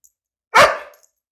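A single sharp dog bark during a training session, loud and close, alone with brief silence before and after.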